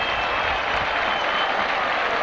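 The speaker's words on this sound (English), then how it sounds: "The crowd enjoyed that one." Rugby league crowd at Warrington v Barrow applauding a run, a steady wash of clapping and crowd noise from a large stadium audience, heard alone without commentary.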